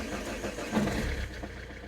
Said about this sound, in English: I can turn on the car